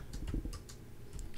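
Rapid keystrokes clatter on a computer keyboard, a quick run of close, crisp clicks with short pauses between bursts, heard alone without talk.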